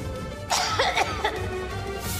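A woman's coughing: a brief burst of several harsh coughs up close, then quieter throat noise.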